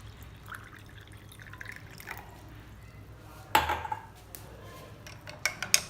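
Water is poured into a glass holding raw mango and jaggery pulp for panhe: a quiet kitchen hush, then one sudden splashing pour midway, followed by a few light drips and clinks.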